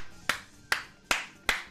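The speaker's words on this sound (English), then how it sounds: "Clapping for me?" Four sharp hand claps spaced roughly evenly apart, each a crisp isolated smack with a short decay, moderately near and alone with no talk.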